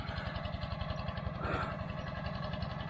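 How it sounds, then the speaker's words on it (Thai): A steady, low tractor engine drone with a regular throbbing pulse, running continuously at an even idle with a slight rise in noise midway, in a flooded guava orchard. "เดี๋ยวขับรถไถพาเที่ยวเนาะ"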